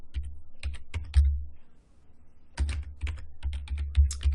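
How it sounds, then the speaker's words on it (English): Someone types a username on a computer keyboard: two quick flurries of close, crisp key clicks separated by a short pause. "I'm going to type in a username, ESXadmin."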